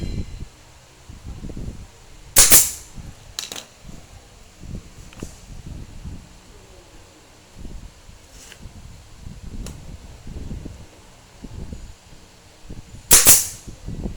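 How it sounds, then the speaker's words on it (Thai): A staple gun fires into a split-rattan basket base, giving two loud sharp snaps about ten seconds apart and a few fainter clicks, amid soft rustling and handling noise. "นี่คือวิธีการยิงก้นตะกร้านะครับ"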